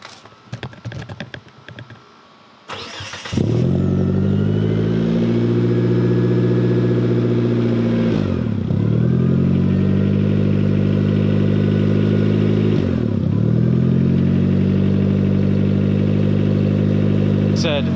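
A turbocharged car with a full 3-inch exhaust and stock turbo cranks briefly and then settles into a loud, steady idle with a deep droning exhaust note, revved lightly a couple of times, heard close with no talking.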